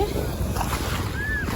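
Sea waves wash steadily onto the shore at Mersin, Turkey, a continuous broadband surf roar mixed with gusty wind buffeting the microphone.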